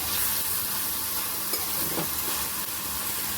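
Onion sautéing in a pan with fresh green peas, a steady broad sizzle with a few soft stirring scrapes, close and even throughout.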